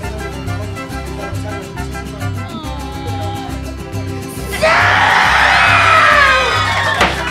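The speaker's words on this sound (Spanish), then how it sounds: "¡Un fuerte aplauso!" A studio audience at a comedy talk show bursts into loud cheering, whoops and yells halfway through, rising over a steady beat of background music that plays throughout.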